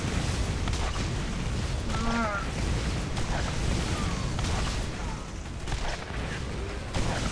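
Dense, continuous gunfire and booming blasts from the video game Borderlands fill the clip, loud and steady, with a brief tonal effect partway through.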